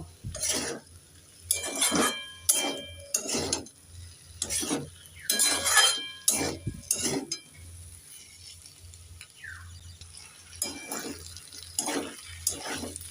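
A spoon stirs kundri and potatoes frying in a pan, giving repeated scraping, clinking strokes in bursts with a soft sizzle underneath and brief pauses between.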